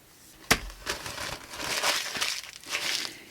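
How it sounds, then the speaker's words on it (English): Medical exam paper being crumpled by hand for a mixed media texture technique, a sharp crinkle at the start followed by several bursts of close, dry crackling rustles, with no talking. "And I found that if I crumple it up first,"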